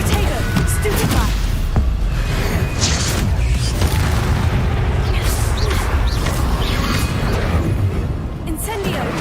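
Spells and explosions from the Hogwarts Legacy video game: a dense, continuous run of booms, thuds and crashing impacts, loud and steady throughout, with voices mixed in.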